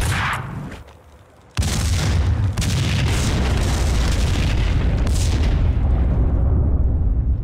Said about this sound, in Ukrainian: І перевіримо вибухівку.